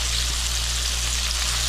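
Shrimp frying in hot grease in a pan, a dense, steady crackling sizzle running unbroken throughout, close and loud with no talking.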